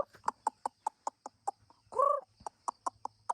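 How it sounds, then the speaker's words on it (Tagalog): Chickens clucking close by in a rural yard near banana plants, a quick run of short repeated clucks broken by one longer drawn-out call, then more clucks. "Lapit yung mga manok."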